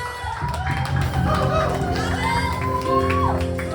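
A church worship crowd claps and cheers loudly, with shouts and whoops rising over a continuous wash of applause and a speaker's voice.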